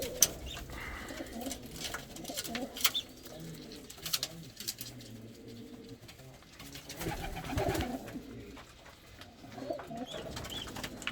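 Bulgarian Bango pigeons coo softly in a backyard coop, low repeated throaty calls rising and fading over several seconds, with occasional wing flutters and faint rustling in the background.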